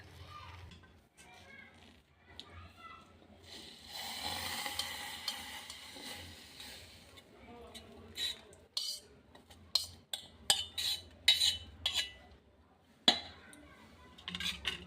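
Carrot halwa stirred in a pan: a spoon scrapes and clinks against metal in scattered bursts, with a soft sizzling hiss in the middle and sharper knocks toward the end, close and moderately quiet.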